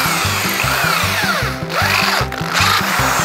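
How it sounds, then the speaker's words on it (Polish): Electric drill boring into metal at slow speed, a steady close motor whine with a rhythmic pulsing grind and rising, falling tones as the bit bites, loud throughout with no talk. "bierzemy wiertarkę, oczywiście w metalu wiercimy, nie z wielką prędkością,"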